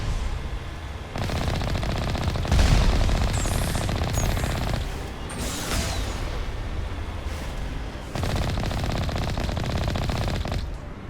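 Gunfire aimed at the player in the video game Mass Effect: bursts of rapid automatic fire rattle in several loud, dense stretches separated by brief lulls, with sharp impacts mixed in and no talking.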